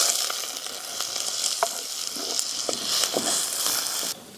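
Chopped onion frying in hot oil in a pot, a steady close sizzle and crackle with scattered pops and faint stirring throughout.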